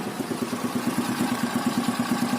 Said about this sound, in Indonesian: Sekali starter cukup dipencet langsung hidup.